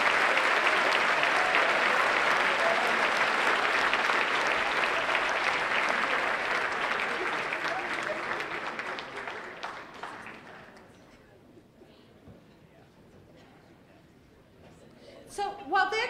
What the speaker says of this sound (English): Come on, clap for them.